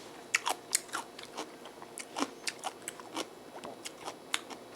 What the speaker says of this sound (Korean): 벌써 맛이 들어서 아삭아삭하니 맛있어요